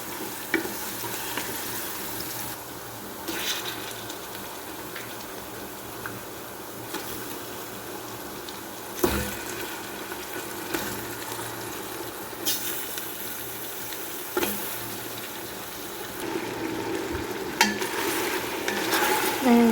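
Meat sizzling and frying in a pan with garlic and ginger, stirred now and then with scraping clatters, a steady close crackle with occasional bubbling and liquid sounds.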